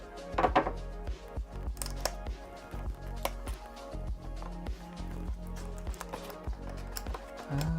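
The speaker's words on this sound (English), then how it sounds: "I got some tape right here. I'm gonna go ahead and slice that off." A knife slices through packing tape to open a Rode microphone box, giving a close run of sharp knocks, scrapes and handling thumps in an uneven rhythm, with no talking.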